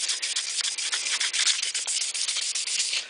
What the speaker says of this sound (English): I'm going to hit it again a little bit with 600.